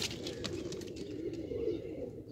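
A pair of Kamagar pigeons coo softly up close, giving low repeated murmuring calls with faint background noise and no talking.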